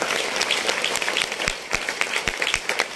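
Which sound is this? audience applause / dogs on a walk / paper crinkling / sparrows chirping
audience applause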